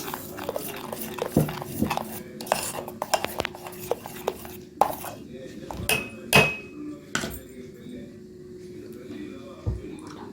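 Sugar being added to thickened homemade custard in a pot and stirred, with scattered clinks and scrapes of a spoon against metal, knocks of utensils and a steady low hum underneath.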